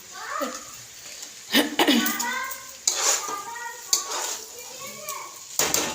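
Meat masala is sautéed and stirred in a pan, with intermittent scraping clatters from a spoon against the pan. Someone talks over it throughout.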